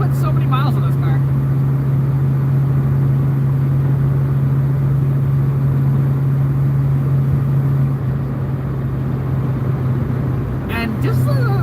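A 1981 Ford Mustang's engine hums steadily while cruising, a low continuous drone joined by road and wind noise throughout, with a brief dip near the end.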